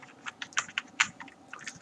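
Rapid, uneven keystrokes on a computer keyboard while writing JavaScript code, a quick burst of close clicks and taps with no talking.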